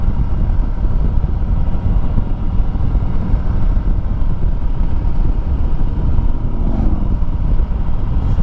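A Harley-Davidson 1200 Sportster motorcycle gives a steady, continuous engine roar with heavy low rumble, holding constant throughout as it cruises at speed, with wind buffeting the microphone.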